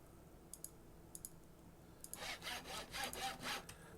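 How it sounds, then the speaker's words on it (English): Blocks are chiseled in the Minecraft modpack Project Ozone 3, giving a few faint clicks followed by a quick run of scraping, rasping strokes, soft and close with no voices. "Let's go ahead and click chisel."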